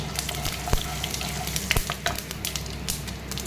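Fenugreek seeds frying in hot oil in a kadai, a steady close sizzle with scattered crackles and a couple of sharp pops, no voices.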